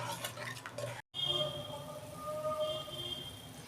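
Water poured into a hot pan for a Bhola fish curry with brinjal makes a steady sizzling hiss. It pauses briefly, then continues as a broad, even rush.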